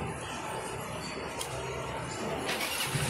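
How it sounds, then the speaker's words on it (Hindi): A Hero Splendor BS6 motorcycle being self-started after a fuse repair, its engine catching and running steadily at moderate volume with no talk over it. "गाड़ी बिल्कुल सेल्फ स्टार्ट हो चुकी है"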